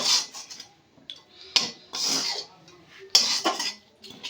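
Spoon or spatula scraping and clinking through a coriander-flecked filling in a pan, several brisk separate strokes with short pauses between them, close and fairly quiet, no voices.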